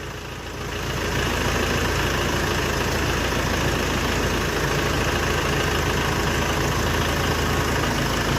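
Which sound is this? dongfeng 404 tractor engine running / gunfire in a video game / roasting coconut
dongfeng 404 tractor engine running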